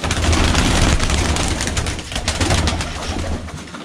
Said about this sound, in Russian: Решил чуть-чуть покормить голубей.